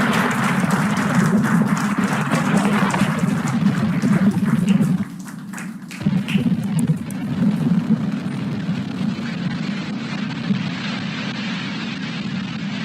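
Falcon 9 rocket lifting off with the Axiom 4 crew aboard Dragon, a steady, loud, roaring rumble that continues throughout with a brief dip midway, and no speech.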